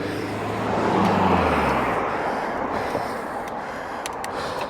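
A car passing close on a road with a double white line while overtaking a cyclist, its engine and tyre noise swelling near and then fading into steady traffic rumble.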